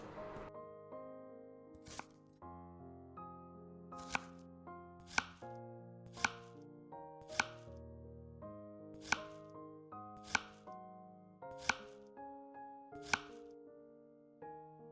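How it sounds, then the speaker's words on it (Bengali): Knife chopping tomatoes on a board for a fish curry, about ten sharp evenly spaced chops heard clearly over steady background music. "এই জন্য আগে আমি টমেটোগুলো কেটে নিচ্ছি"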